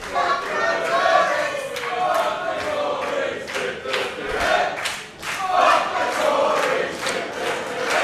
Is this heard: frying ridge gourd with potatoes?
no